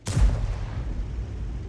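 A single loud, booming artillery shot in World of Tanks from a Lorraine 155 mle.51, a sharp blast followed by a long rumbling decay, with no talking.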